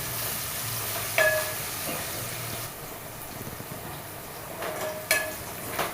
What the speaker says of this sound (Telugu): సాల్ట్ వేసుకొని బాగా మిక్స్ చేసుకోండి త్వరగా ముక్కలు మగ్గుతాయి